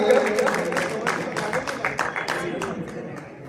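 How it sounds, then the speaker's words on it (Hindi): Audience at a senior citizens' organisation foundation day function in Kotdwar, Uttarakhand, clapping to welcome a guest; a steady, fairly dense round of applause with voices mixed in, tapering slightly near the end. "जोरदार तालियों से स्वागत कीजिए अरोड़ा जी का"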